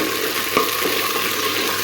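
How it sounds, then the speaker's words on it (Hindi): Cumin seeds crackle and sizzle in hot ghee in a home kitchen pan, a steady dense frying hiss with faint pops, loud and close, no voices. "थोड़ा सा जीरा कड़कड़ाएगा तो फिर मैं थोड़ा सा ब्राउन हो जाएगा ना"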